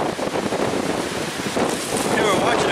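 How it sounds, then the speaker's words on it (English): Strong storm wind gusting along the Lake Superior shore in Michigan, a loud, steady broadband rush buffeting the microphone with no pauses. "Now we just had a storm move in. It's getting extremely dark, windy, and the air is actually cold."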